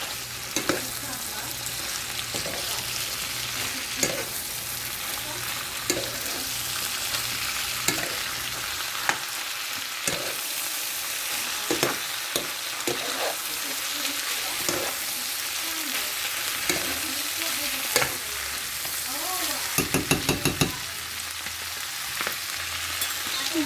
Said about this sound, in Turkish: Şimdi de bezelyeleri ekliyoruz arkadaşlar. Şimdi yarısını ekliyorum, karıştırıyorum.